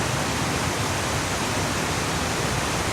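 A side creek flowing down a mountainside in South Westland, New Zealand, gives a steady, dense rushing hiss of moving water. It sounds close, with no talk over it.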